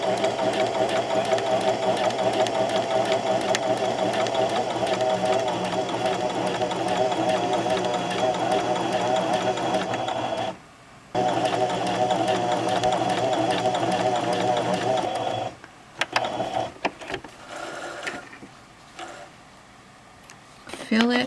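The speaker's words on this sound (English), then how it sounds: "So what I'm going to do is I'm going to sew along 3 sides" Sewing machine running steadily, stitching along three sides of a 3.5 by 3.5 fabric piece, a continuous loud whirring hum with brief pauses near the end.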